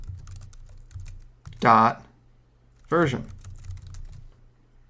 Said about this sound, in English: Over in the terminal, I'm going to type